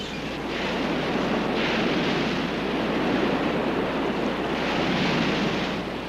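Whitewater rapids on a wild river, run by kayaks, roar as a steady, loud wash of rushing water with gusty swells and no voices.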